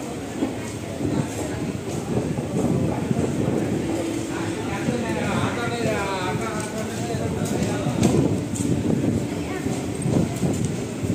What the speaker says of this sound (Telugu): మన భీమవరం టౌన్ స్టేషన్ నుంచి కూడా మన ట్రైన్ అయితే స్టార్ట్ అయిపోయింది